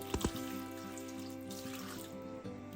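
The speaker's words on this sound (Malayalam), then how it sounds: "ഇനി ആവശ്യത്തിന് വെള്ളം ഒഴിച്ചു കൊടുക്കാം" Water pours into a pan of pumpkin cooked for a Karnataka-style thoran. A quiet, steady running stream is heard, with a couple of sharp splashes at the start and a faint knock near the end.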